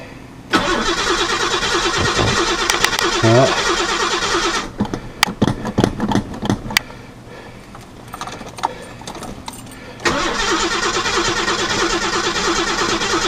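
A car's starter cranks the engine in two long, steady bursts with a pause between them, and the engine never catches. Clicks and rattles from inside the car fill the gap.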